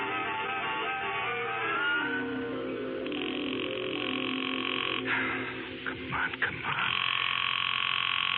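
A telephone rings on and on unanswered in a 1974 radio mystery drama, a sustained, narrow-band ringing tone that is briefly broken up midway, with a short spoken voice.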